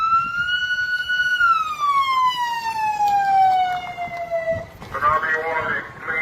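Emergency vehicle siren sounding through the streets of Kodiak, Alaska, during a tsunami warning, a long wailing tone that slowly falls in pitch before other noise cuts in.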